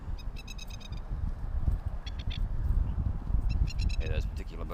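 Rapid, repeated high-pitched plover calls in short chattering bursts over a loud rumbling wind and background noise, at Goondi Bend, Queensland.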